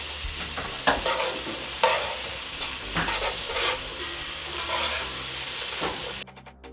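Red kidney beans are tossed into a pan of onions and stirred, giving a loud, steady sizzle with scraping utensil strokes and a few sharp clacks before it cuts off abruptly near the end.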